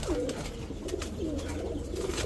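Garra pigeons coo steadily in soft, low, throaty rolls, repeating throughout against a constant background hum.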